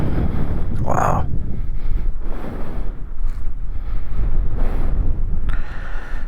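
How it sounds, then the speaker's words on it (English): Strong, violent wind roars and buffets across the microphone outdoors by a cemetery on a motorcycle ride, a loud continuous rush with gusty swells and no pauses. "this wind is getting violent here too"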